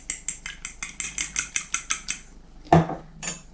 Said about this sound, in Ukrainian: В яйце всипаю сіль і перемішаю виделечкою.